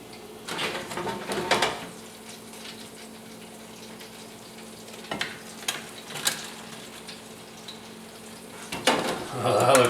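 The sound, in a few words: deep frying Cajun mushrooms in oil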